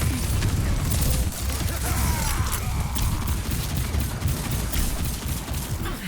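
Gunfire rattles at Mauga in Overwatch, a dense, continuous stream of rapid shots and mechanical clatter layered over loud game ambience, with no pause across the stretch.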